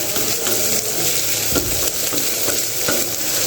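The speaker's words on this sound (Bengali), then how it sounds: "চিকেনটা কষবো।" Chicken sautéing in a pan with a paste of cumin, coriander and turmeric plus chopped tomato, a loud continuous sizzle close by with repeated stirring scrapes of a spoon against the pan.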